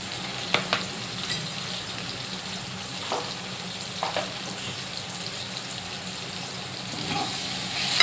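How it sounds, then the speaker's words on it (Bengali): Onions fry with salt, tomato and turmeric for a quick biryani, a constant crackling sizzle up close punctuated by occasional spatula scrapes and taps against the pan. "এইগুলোকে ভালো করে নেড়ে চেড়ে ভালো করে ভাজতে হবে।"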